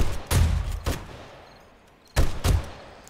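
Junk turret in the video game 7 Days to Die shooting at a zombie horde: two short, loud bursts of rapid gunfire separated by a quiet gap.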